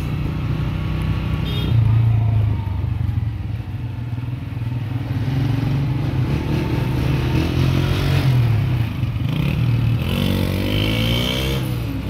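A damaged motorcycle engine runs steadily close by, a loud low rumbling idle with uneven clatter and occasional revs, a voice speaking briefly over it outdoors.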